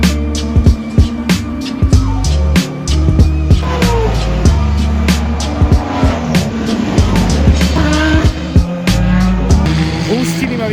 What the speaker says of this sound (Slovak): Tam je rovinka, odkiaľ idú auta rýchlosťou cca